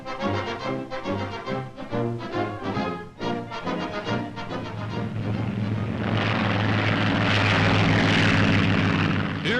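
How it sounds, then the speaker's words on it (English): A propeller plane makes a low droning engine roar as it flies in to snatch a glider tow rope in an Army Signal Corps glider-pickup experiment. The drone swells and becomes a louder, steady rumble. "A rope is rigged for the oncoming plane to catch."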